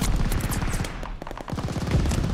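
Call of Duty Vanguard multiplayer match on PS5, loud close bursts of automatic gunfire rattling in fast strings, dropping briefly at the midpoint before the shooting picks up again.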